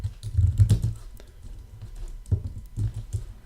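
Typing on a computer keyboard during web coding work, clusters of quick close key clicks in irregular bursts with short pauses, fairly loud and with no talk over them.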